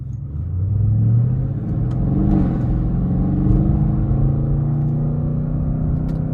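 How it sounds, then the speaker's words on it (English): A 2021 Audi RS6 Avant estate driving on the road, its engine a loud, steady low rumble with rising and falling revs from inside the car, and no one talking. "Let's go ahead and take this 2021 Audi RS6 Avant out on the road for a test drive."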